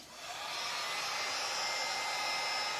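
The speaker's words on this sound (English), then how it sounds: "I'm going to turn the heat gun on it for a little bit." A heat gun blows hot air over a freshly finished pine bowl to dry it, a steady close airy hiss that builds up quickly at first and then holds constant, with no talking.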